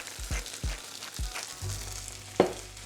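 Sticky jasmine rice heating in a pan with a little pepper, sizzling and frying with a series of soft stirring or tapping knocks in the first half, then a sharper clack near the end.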